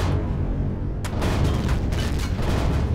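Heavy booming gunfire aimed at a dropship in the video game Empyrion Galactic Survival, with a rumbling low roar and repeated sharp blasts from about a second in.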